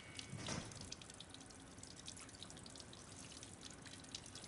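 Household tap running steadily into a sink, a broad continuous wash of water with a brief louder splash near the start, close and moderately quiet, no talk over it.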